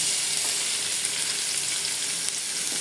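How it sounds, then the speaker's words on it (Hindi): Chopped onions fry in hot oil for a macaroni dish, giving a steady, close, bright sizzle with faint crackles and no voices over it. "ये आए बस ये जाएंगे आयल में, साथ ही प्याज"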